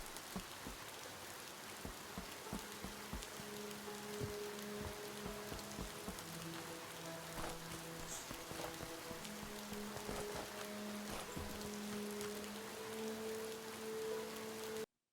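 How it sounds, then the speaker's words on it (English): Steady rain falls throughout in the video game Alaska Gold Fever, a soft continuous patter of drops with faint tonal hums underneath, no voices. "It's raining."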